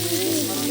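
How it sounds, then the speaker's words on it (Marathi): Food sizzles as it fries in a bowl during outdoor village cooking, a brief, close, steady crackle. "इकडे बाउल फ्राय होतोय"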